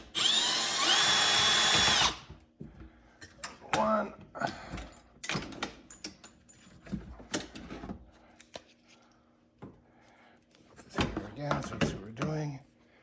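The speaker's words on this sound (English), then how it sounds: "next we're going to take the screws out that hold the door handle to the outside" A power drill whines loudly at full speed for about two seconds, backing screws out of a Kawasaki Ridge door handle, followed by clicks, clunks and handling noises with someone talking.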